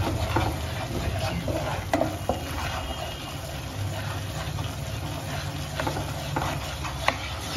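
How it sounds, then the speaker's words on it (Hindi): Flour roasting in butter in a pan on a very low flame while being stirred, a steady soft sizzle with occasional scraping clicks of the spoon, close up and continuous, with no talking. "बिल्कुल स्लो फ्लेम पे मैं इसको भून रही हूँ"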